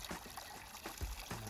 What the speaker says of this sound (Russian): Открывается вот так вот кран.